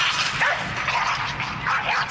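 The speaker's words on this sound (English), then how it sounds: "Are you gonna bark all day, little doggy?" Dog barks and yips set inside a song, a steady string of short bright barks over a continuous backing track.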